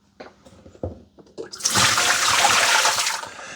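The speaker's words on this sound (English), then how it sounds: "let's go empty its dirty water tank" Dirty water from the tank of a Dreame L40S AE robot vacuum is emptied, with a few soft handling knocks before a loud, steady rush of pouring water close up that lasts for about two seconds.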